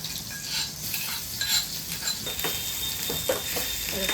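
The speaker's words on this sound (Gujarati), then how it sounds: "હવે ડુંગળી આપણે આમ સાઈડમાં કરી એમાં નાખી દઈશું આપણે આ આદુ લસણની પેસ્ટ." Ginger-garlic paste hitting frying onions in ghee in a pan, a steady close sizzle with scraping stir strokes and light utensil clinks, no talking.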